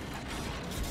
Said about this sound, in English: Let's see if it reloads over 100 bullets.